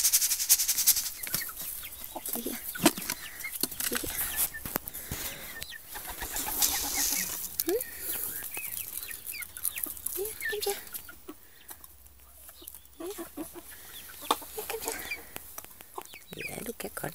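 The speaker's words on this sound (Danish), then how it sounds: "fordi kyllingerne er ude at rende." Chicks clucking and running loose in a home garden make scattered clucks and chirps near and far, with occasional sharp scuffs and rustles throughout.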